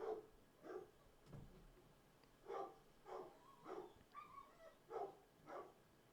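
Dogs barking in a faint, distant series of about eight sharp barks at uneven intervals, with a low whimper-like sound between them and no talking.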